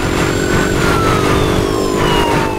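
Motorcycle engine in the video game Battlefield Hardline roars steadily at high revs, its pitch drifting slowly downward and back up, loud and close with no talk.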